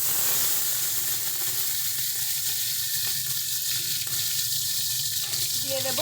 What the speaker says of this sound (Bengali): এবারে আমরা প্রথমে চিংড়ি মাছটা ভেজে নেব।